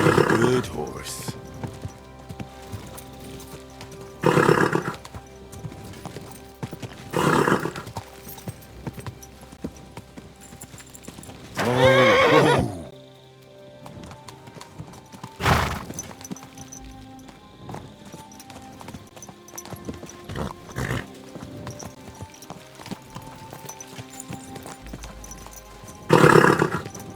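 Horses in the game Kingdom Come: Deliverance II clop along at a steady walking rhythm, with occasional louder neighs and snorts rising over the hoofbeats, while voices talk intermittently throughout.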